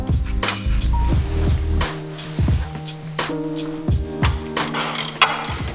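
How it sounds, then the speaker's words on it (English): A 21mm wrench ratchets on a BMW lower control arm bolt with a series of quick metallic clicking strokes, pausing briefly between pulls, close and clear. "We're gonna release that bolt with a 21mm."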